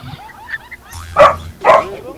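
A dog barks twice in quick succession, two sharp yelps at moderate distance over low background noise and faint talk, near an upholstery shop on Visayas Avenue.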